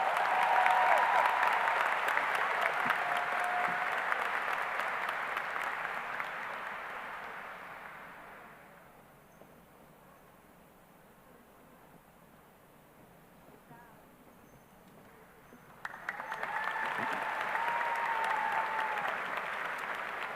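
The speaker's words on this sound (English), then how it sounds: "Please give them another big round of applause." Graduation audience applauding at a high school commencement ceremony, broad clapping that fills the hall for several seconds, drops away to a quiet lull, then swells back up loudly near the end.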